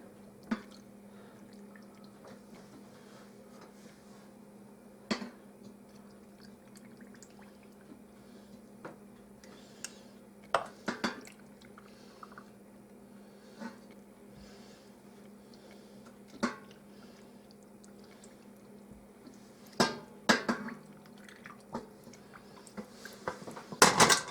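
Cold orange and grapefruit pieces are packed into cold canning jars at a kitchen counter, with scattered clinks of glass, soft drips and wet thuds over a quiet background that grow busier toward the end.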